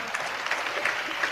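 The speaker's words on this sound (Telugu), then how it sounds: "చప్పట్లు కొట్టాలి గట్టిగా" Loud clapping from a church congregation during a prayer gathering, a dense continuous burst of many hands close by, lasting only a moment.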